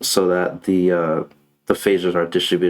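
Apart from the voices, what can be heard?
No everyday noise stands out behind the speech.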